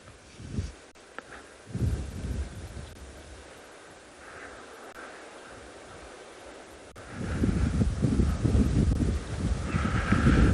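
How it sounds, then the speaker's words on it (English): Wind buffets the microphone outdoors at sunrise on a South African safari, low rumbling gusts rising and falling, with a stronger sustained gust toward the end. "it's a little bit windy this morning"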